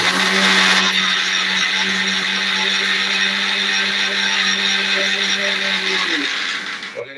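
A kitchen mixer grinder whirs steadily at close range while blending tamarind water into a curry mixture, a loud continuous motor drone that winds down and stops near the end.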